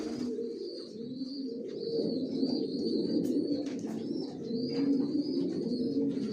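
Racing pigeon chicks of an original Johnson Maxi racer line coo steadily inside a pigeon loft, a close, continuous low burbling chorus with a few higher chirps over it.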